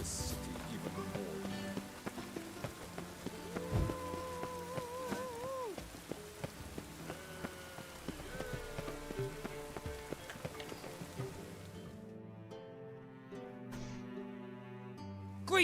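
Rain falls steadily on a city in the video game The Witcher 3: Wild Hunt, a soft continuous patter under game music that fades out near the end.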